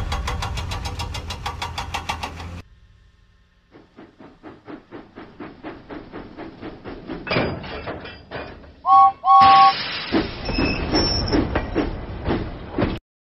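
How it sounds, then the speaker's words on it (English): James the steam engine puffs out of the docks in a Thomas and Friends video game, with regular chuffs gathering pace after a brief quiet, and a short two-note whistle toot partway through. "James pumped his pistons and puffed out of the docks."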